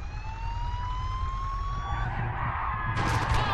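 Wailing ambulance siren in the Spider-Man: Web of Shadows video game, a loud rising-and-falling tone close by over traffic rumble, ending in a sudden crash-like burst of noise.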